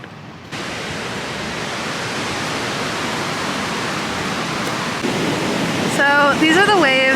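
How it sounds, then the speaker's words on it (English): Broad steady roar of ocean surf at a beach in Santa Teresa, Costa Rica, during the rainy season, with wind adding to the wash; a person starts talking over it near the end. "So these are the waves."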